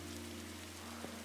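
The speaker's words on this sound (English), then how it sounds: "And it's raining on my face." Rain in the Roblox Oaklands VR game falls as a steady, soft hiss that holds evenly throughout, layered over a low constant hum with one brief bump near the end.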